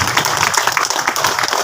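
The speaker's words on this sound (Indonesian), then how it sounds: "Tepuk tangan dulu buat beliau." An evening gathering in the village of Sukamelang applauds its village head: a brief, loud, dense burst of many hands clapping together, with no pauses.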